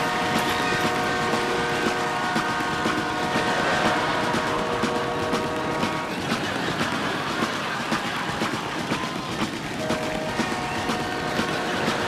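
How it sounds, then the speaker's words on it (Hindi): A passing-train sound recreated on a television comedy show stage, heard as a loud, continuous rumble and rattle with steady tonal hums that lasts the full twelve seconds. "फिल्म में एक सीन है, ट्रेन निकल रही है, उसकी आवाज पे नाच रहे हैं।"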